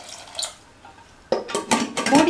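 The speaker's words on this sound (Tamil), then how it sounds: "முங்குற அளவுக்கு தண்ணி சேர்த்துடலாம்." Water is poured into a pressure cooker holding baby potatoes, a sudden splashing gush following a softer metallic clink, close and fairly loud.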